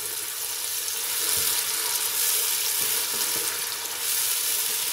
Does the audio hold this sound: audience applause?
no